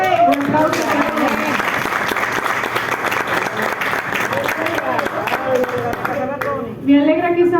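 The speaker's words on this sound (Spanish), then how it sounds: "Un aplauso para ella" Steady applause from a church congregation for a young woman, loud and continuous, with voices talking and calling over the clapping throughout.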